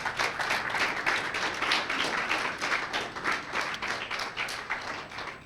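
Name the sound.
audience clapping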